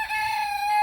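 A chicken or rooster in a newly built chicken run gives one brief, loud, sustained crowing call, close and alone.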